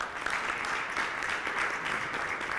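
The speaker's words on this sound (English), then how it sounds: "Give her a round of applause." An audience at a restorative justice summit breaks into a steady round of applause, a dense wash of clapping from a crowd that sounds moderately distant and continues without voices.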